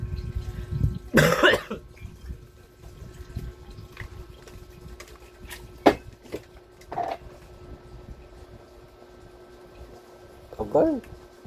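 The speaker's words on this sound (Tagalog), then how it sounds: "Ubo." A person coughs several times with long pauses between, one loud harsh burst early and weaker coughs later, indoors among quiet background clatter while someone works on assembling a clip fan.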